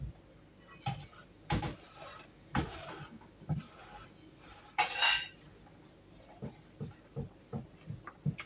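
A silicone spatula scrapes and stirs thick brookie batter in a bowl, giving repeated soft thuds and scraping clinks at an uneven rhythm, close and fairly quiet, with no talk.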